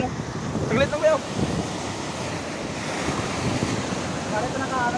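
Ocean waves surge and break on a shore during a shore-casting fishing trip, a steady rushing wash mixed with wind noise on the microphone, with brief voices heard early and near the end.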